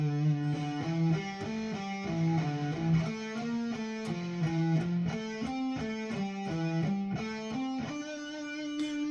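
A slow electric guitar blues solo lick, played deliberately note by note with a lightly overdriven tone, sustained bends and clear melodic steps, heard alone and close.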